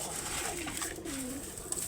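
Pigeons in a loft give soft, low cooing calls, a couple of gliding coos against a faint background hiss, fairly quiet and without talk.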